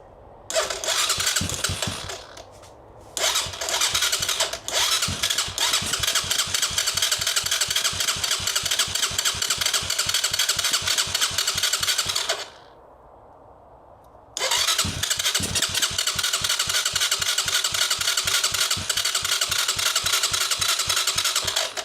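A 250cc Apollo dirt bike engine starts and settles into a fast, even putter. It cuts out briefly once, then fires back up and keeps idling steadily, close by.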